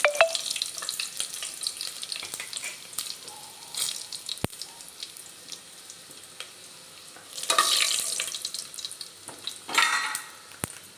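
Dried red chillies frying with mustard seeds in hot oil for a village mutton curry, a quiet steady sizzle with light stirring and a few brief louder bursts of crackle.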